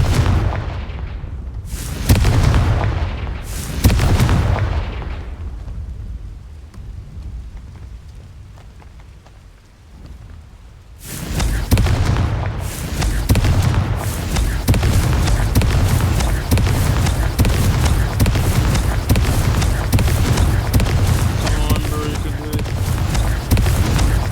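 Confringo explosive spells cast in Hogwarts Legacy, several loud booming blasts up front, a quieter lull, then a long stretch of dense crackling, rumbling explosions and debris noise.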